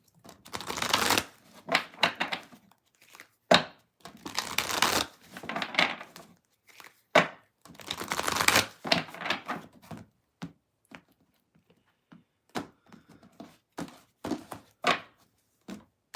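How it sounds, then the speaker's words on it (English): Playing cards being shuffled close by, repeated riffles and soft slaps in bursts, then quieter scattered taps and card handling. "while I do the endless shuffle over here of all the cards"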